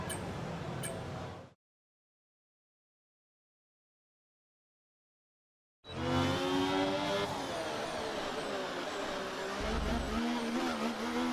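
An F1 race car in the video game F1 24 roars at high revs, then cuts to silence before the engine returns loud and continuous with shifting pitch as it drives on.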